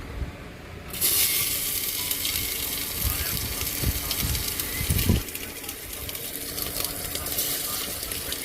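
Ginger drops into hot oil in a pan and sizzles loudly and steadily, with scraping and stirring clatter mixed into the frying.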